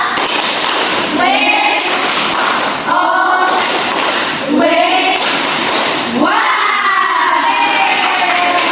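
Class 5 primary schoolchildren perform a rhythmic patterned clap and then burst into loud cheering shouts together, repeating in several bursts close by, with excited young voices rising over the claps.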